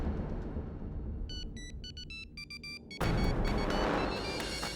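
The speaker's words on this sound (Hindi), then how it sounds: "ये शायद अवनी का फोन" In a courtroom TV drama scene, a mobile phone rings with an electronic ringtone of short repeated melodic beeps for under two seconds, before an abrupt cut to a louder, noisier scene.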